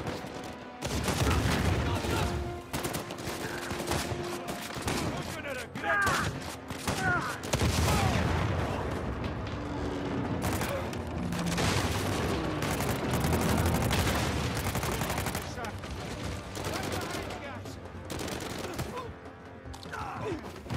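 In the Uncharted video game, gunfire comes as dense, repeated bursts and volleys of shots that fill almost the whole stretch, with mechanical clatter and booms around them and occasional talk mixed in.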